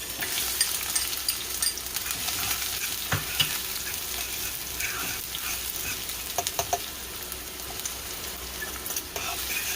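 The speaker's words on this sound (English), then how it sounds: "you want to saute these seasonings for a little while" Seasonings sauté in a pot over medium-low heat for a veggie omelette, a steady, moderate sizzling hiss with scattered light taps and scrapes of stirring close by.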